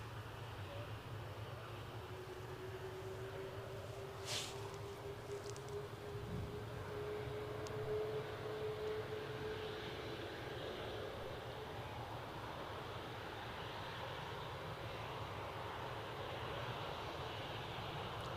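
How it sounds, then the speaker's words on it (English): An RAF Grob Prefect T1 propeller trainer on final approach is heard as a faint, distant engine drone that slowly rises in pitch over steady background noise near the coast by an airport. "the RAF gracing us with a Grob Prefect T1, 7 years of age, just crossing the coast now on final approach"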